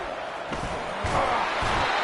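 A packed stadium crowd at a college football game, Oregon at Ohio State, roars in a dense, continuous wash that swells slightly toward the end, with an announcer's voice faintly mixed in.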